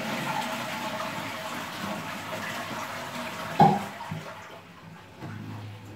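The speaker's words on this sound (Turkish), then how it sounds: "Şimdi vanayı kapatıyorum. Hazrin içerisindeki suyu boşaltıyorum." Water drains out of an older-model Siamp concealed toilet cistern after the supply valve is shut. A steady rushing flow is heard with a sharp knock midway, and the flow then thins and fades near the end.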